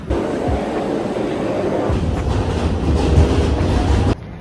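An underground metro train rumbles past with steady clattering on the rails, loud and close, then cuts off abruptly near the end.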